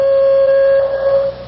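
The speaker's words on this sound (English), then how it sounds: "The dispatcher at a central location sounds the alarm" A fire station alarm sounded by a central dispatcher at a 1970s Kansas City fire department blares as a loud, steady electronic buzzer tone, holding without a break for over a second before it cuts off.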